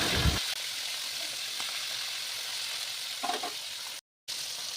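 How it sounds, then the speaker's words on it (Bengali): Hilsa fish heads coated in salt and turmeric fry in hot oil in a wok, giving a steady, close, hissing sizzle that cuts out briefly near the end. "কড়াই তেল গরম হলে নুন হলুদ মাখিয়ে রাখা ইলিশ মাছের মাথাগুলোকে ভালোভাবে ভেজে নেব"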